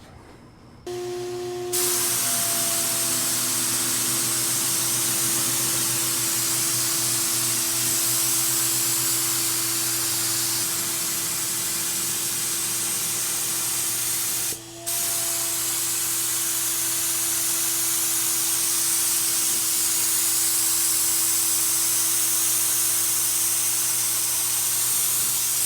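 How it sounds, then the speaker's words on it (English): A paint sprayer sprays cabinets and doors in a loud, steady hiss over a constant motor hum. It runs for about 25 seconds with one brief pause midway. "Let's get to spraying."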